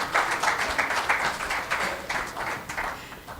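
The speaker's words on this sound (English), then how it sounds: "Please, a warm round of applause," A conference audience at a UN Tourism gastronomy forum in Africa claps in a brief burst, a dense patter of many hands in a hall that swells and then tapers off, with no speech over it.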